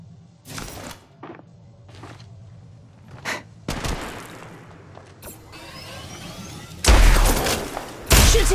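Gunfire in the mobile shooter Apex Legends Mobile: sharp, loud bursts and rapid volleys come in separate clusters with brief gaps, then heavier sustained firing near the end.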